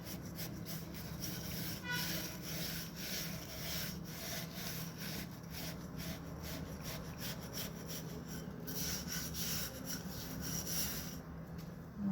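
A wire scrubber rubs steadily back and forth over a discarded object being cleaned, a continuous close rasping scrape with a regular rhythm that carries on alone throughout.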